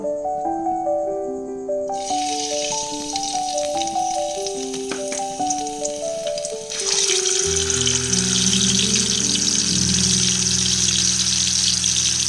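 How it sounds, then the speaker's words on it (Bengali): Hilsa fish heads fry in hot oil in a home kitchen, giving a steady, dense sizzle that swells louder partway through. Background music with melodic tones plays over the frying. "ওই একই তেলে আমি ইলিশ মাছের মাথাগুলোকেও ভেজে নেব"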